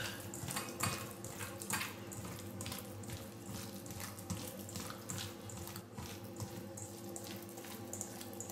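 Hands being washed under a running kitchen tap while stuffed aubergine is being prepared, a steady close splash of flowing water that continues without a break and with no talk.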